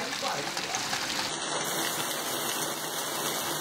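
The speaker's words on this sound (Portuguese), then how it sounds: "Chuva aqui em Cerro Corá, viu?" Heavy rain pours steadily in Cerro Corá, Rio Grande do Norte, a dense broadband wash of falling water, with a high tonal insect or bird whine joining partway through.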